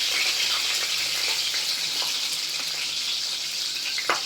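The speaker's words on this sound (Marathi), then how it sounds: "अशा सगळ्या मिरच्या आपण वरखाली करून घेतलेल्या आहेत आता छानपैकी त्या परतल्या गेलेल्या आहेत" Green chillies fry in a pan with a dense, even sizzle that carries on throughout, dotted with faint ticks and a small knock at the end.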